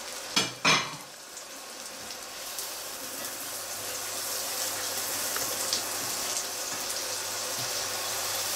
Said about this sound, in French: je les ajoute dans ma sauteuse avec le beurre, pour juste les faire blondir